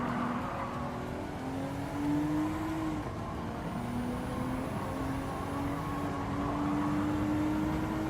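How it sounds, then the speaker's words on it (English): Toyota Supra engine in Gran Turismo 7, a steady loud drone with a rising and falling pitch as the car accelerates and shifts, running continuously at close range with no talking. "Was that a Supra? That's a beautiful looking Supra."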